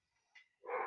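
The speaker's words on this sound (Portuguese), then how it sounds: "Tem o meu cachorro latindo aí" A pet dog barks faintly in a nearby room, giving one soft high yip and then a fuller bark close to the end.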